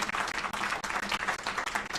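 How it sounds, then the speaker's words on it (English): Applause from an audience at a legal conference, a dense burst of steady clapping for the discussants lasting a couple of seconds. "I think we can clap for our discussants"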